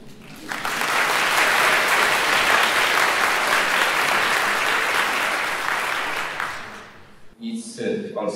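An indoor audience at a birthday celebration breaks into sustained, dense applause that lasts about six seconds and then tapers off, followed by a speaking voice near the end.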